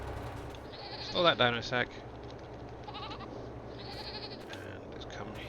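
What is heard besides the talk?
goats bleating in a Farming Simulator video game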